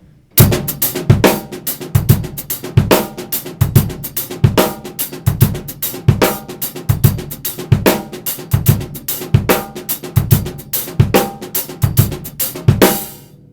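A steady, brisk drum groove for a song with punchy kick and snare backbeats under busy hi-hat, played alone and close at a moderately fast tempo.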